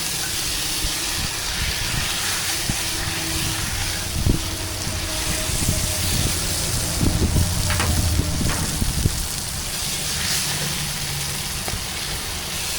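Duck pieces fry and brown in a pan over a camp fire, giving a steady loud sizzle with occasional pops and scraping stirs, and almost no speech.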